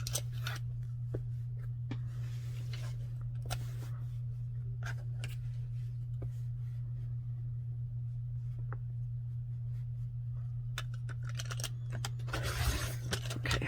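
Scissors cut through cereal box cardboard for a hardcover in a series of quiet, close snips and scrapes over a steady low hum, with faint rustling between cuts.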